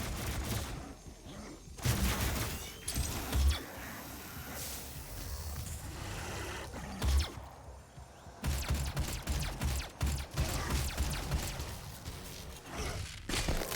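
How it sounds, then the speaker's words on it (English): Pistol shots crack in quick irregular bursts during a video game played on a Steam Deck, sharp close pops mixed with other game sounds and faint movement. "I want to kill you with the pistol"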